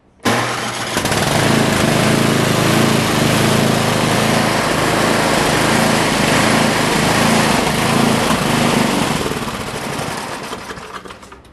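An engine on an Arizona sub oil-filter and seal job is cranked and catches, then runs loud and steady with a rough, rattling drone for about ten seconds before beginning to wind down.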